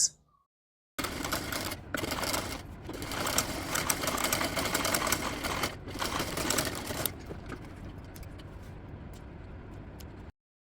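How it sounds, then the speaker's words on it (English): A sewing machine top-stitching a corset along the boning, running in a fast continuous mechanical whir with brief pauses and restarts, close and clear, then stopping near the end. "So you're just going to take it over to your machine and then top stitch after the boning that you sew on the lining part."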